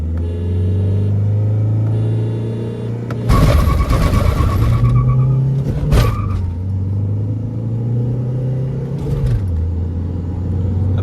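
A Ford Endeavour 3.2 and a Mahindra XUV500 with its mHawk engine, both in sport manual mode, rumble side by side at a drag-race start. A loud burst of acceleration follows, with engine notes rising and dropping through gear changes.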